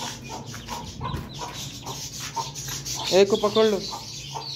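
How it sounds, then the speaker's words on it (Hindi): Chickens cluck and squawk near and loud while a hen is caught and taken out of a coop, with rustling and handling noise and a voice speaking briefly. "मुर्गी अंदर घुस गई थी, अभी मुर्गी को बाहर निकाल रहे हैं।"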